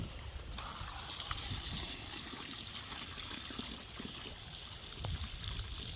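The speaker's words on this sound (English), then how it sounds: "And we're going to give it all the water that's in this jug." Water poured from a jug into a planting hole for an apple tree, a steady soft outdoor trickle and splash lasting throughout, fairly faint and with no talking.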